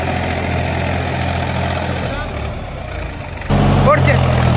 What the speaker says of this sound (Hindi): ट्रेलर पर कितनी शानदार तरीके से जो है महिंद्रा 275 XP प्लस काम कर रहा है